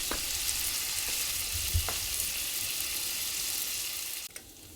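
Venison tenderloin steaks fry in butter in a pan with a steady, close, dense sizzle that holds throughout, broken by a few light knocks and a soft thud near the end.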